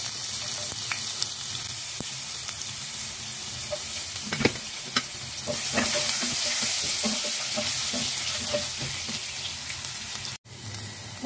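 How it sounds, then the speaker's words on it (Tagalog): Ginger sautés in the oil left from frying milkfish, a dense, steady crackling sizzle throughout. Scattered spatula clicks and scrapes sound close by, and there is a short gap near the end. "naprito na yung ating bangus at magigisa na tayo. Yan, ilalagay na natin yung luya."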